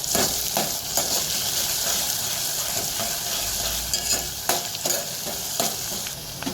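Onions and tomatoes sizzle loudly in a pan while being stirred, a continuous close frying hiss broken by scraping strokes of the spoon, with no voices.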